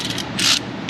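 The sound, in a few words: socket ratchet tightening spark plug on Chevy Silverado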